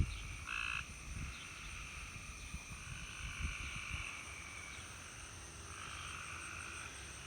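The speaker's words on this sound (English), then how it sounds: "Tree frogs." Tree frogs croak in a garden after rain, a steady chorus with a few louder calls, heard outdoors with gusting wind and no voices.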